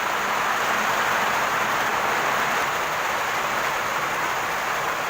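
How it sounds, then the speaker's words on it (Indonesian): Steady rain pours down in Batuk Kukar, a dense, even hiss that stays constant and fairly loud throughout with no voices. "Hujan guys."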